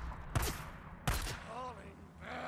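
Covering gunfire in the video game Days Gone: two sharp, fairly close shots about a second apart over a low background rumble, with a brief voice-like tone after the second shot.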